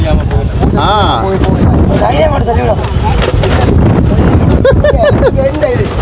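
Wind roars across a small fishing boat at sea off Mandaitivu island, a loud steady rumbling buffet on the microphone that runs throughout, with faint voices talking briefly beneath it.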